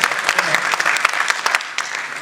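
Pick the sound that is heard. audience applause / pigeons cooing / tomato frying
audience applause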